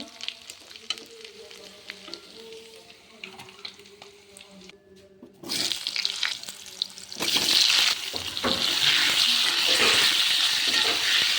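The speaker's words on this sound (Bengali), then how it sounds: "আলু ভাজি হয়ে গেছে, এবার নামিয়ে নিচ্ছি।" Potatoes sizzle as they fry in a pan for a Bangladeshi potol-chingri dish, quiet clatter and stirring at first, then the frying swells loud and steady over the second half.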